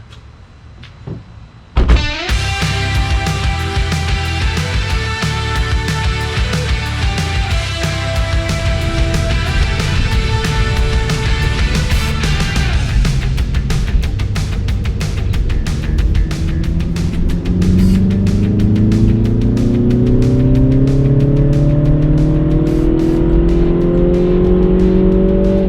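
A MINI Cooper S drives on a mild December day, its engine loud and close throughout, steady harmonic drone rising through revs as it accelerates.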